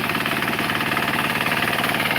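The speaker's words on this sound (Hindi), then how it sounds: "ये देखो, ये है कामा कामा इंजन का पावर।" A Kama power weeder's engine running close by, a loud, steady rapid chugging with a fast regular knock and strong vibration throughout.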